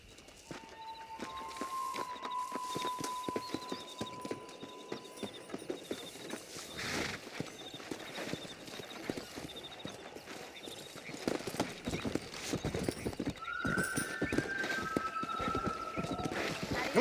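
Horses galloping in Red Dead Redemption, with steady rapid hoof clip-clop running throughout, occasional whinnies and tonal game sounds, fairly close and continuous.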